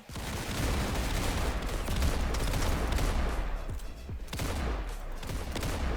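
Rapid bursts of gunfire in the Roblox game Counter Blox, dense overlapping shots crackling loud and continuous, with a brief lull near the end.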